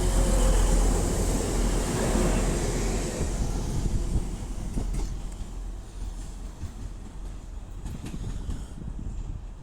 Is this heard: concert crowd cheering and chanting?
no